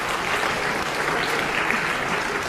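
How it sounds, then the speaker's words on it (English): An audience applauds, many hands clapping in a dense, even roar that stays loud and sustained throughout. "So a round of applause for these 2."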